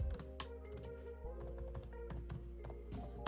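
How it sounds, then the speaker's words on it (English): Quick, light keystrokes on a computer keyboard, a run of close clicking taps typed at an even pace, alone and fairly quiet. "I'm gonna do custom, and I'm gonna type in skirt."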